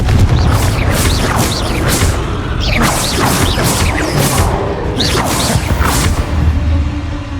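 Booming spell blasts and whooshing impacts from the Confringo fire spell in the Hogwarts Legacy game, several bursts in quick succession, loud and dense, layered over a constant busy battle bed.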